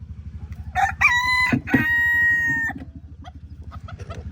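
Chickens make a low, steady run of rapid clucks nearby, while a rooster crows loudly partway through.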